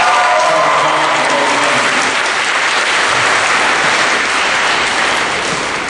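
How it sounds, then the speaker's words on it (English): A crowd at a 2013 high school graduation ceremony applauds the graduating class, a loud, dense, unbroken roar of clapping hands that holds steady for the full six seconds. "Give yourself another round of applause."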